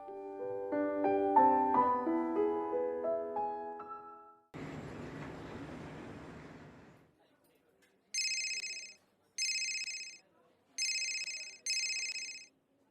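A phone rings out in four short, bright electronic bursts separated by pauses, clear and alone after a stretch of background music and rumbling noise.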